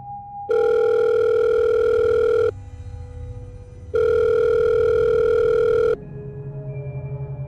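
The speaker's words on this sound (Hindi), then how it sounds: "उस वक्त तक जब तक उसकी पॉकेट में रखा फ़ोन नहीं बजा।" A mobile phone ringtone plays alone, two loud sustained tonal bursts of about two seconds each separated by short gaps, fading into a quieter tone at the end.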